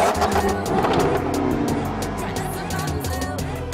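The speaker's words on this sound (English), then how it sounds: "The engine is talking to us right now. So sexy when it turns on and revs." A Jaguar car engine revving and roaring loudly and steadily throughout, with a faint voice buried beneath the motor noise.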